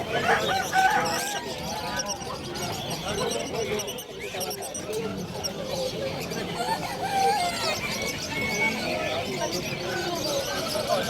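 Roosters crow amid a crowded, noisy pet market in Bulacan, with many voices chattering around them and constant background bustle.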